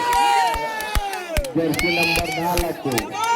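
Spectators at a kho kho tournament semi-final cheer and clap loudly, with whoops and shouts rising over one another, mixed with a commentator's voice and sharp claps throughout.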